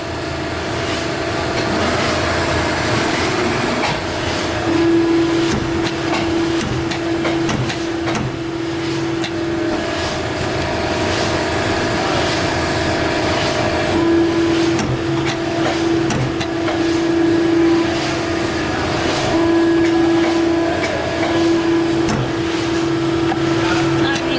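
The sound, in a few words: Polar 92 paper guillotine cutter making cuts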